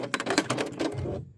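A sewing machine back stitches over quilt binding in a short, rapid run of clattering stitches, close and fairly quiet, with no talk.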